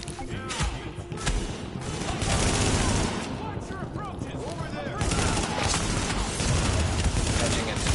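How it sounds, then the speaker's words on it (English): Dense gunfire in a sci-fi shooter video game, with rapid automatic bursts and crashing impacts continuing throughout, loud and layered, with muffled game radio chatter blended underneath. "Reporting gunfire in the station above us."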